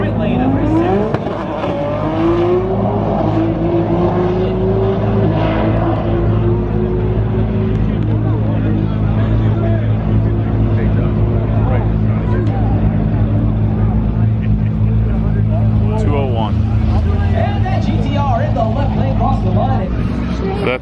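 Nissan GTR drag racing down the track, a loud sustained engine roar with rising pitch sweeps and crowd babble, with voices talking over it.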